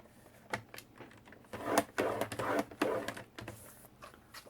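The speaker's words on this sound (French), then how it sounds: "Je vais pousser ma lame à 1 cm." A blade pushed along paper to score a fold for a December Daily album, a run of short scraping and clicking strokes, close and fairly quiet, bunched irregularly, with no one talking.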